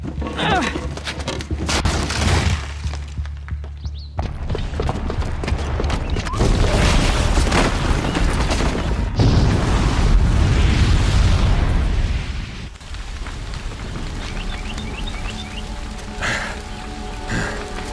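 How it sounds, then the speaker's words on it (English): A booby-trapped bomb detonates in Horizon Zero Dawn, a loud, sustained roaring blast with rumbling debris that swells for several seconds before easing into a quieter crackling tail. "Because the booby trap on the bomb downstairs is gonna get set off."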